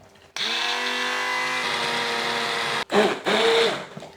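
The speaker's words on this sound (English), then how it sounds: "I've got a blender, and I'll just whisk them." A blender whisks simmered blackberries for a tart, a steady loud motor whine running about two and a half seconds, then cutting out before two shorter bursts with the pitch rising and falling.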